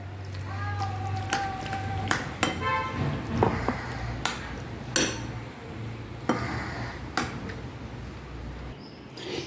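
Ground paste being stirred into green mango kichadi in a pot, with a series of sharp metallic spoon clinks and scrapes against the vessel, moderately close over a low steady background hum.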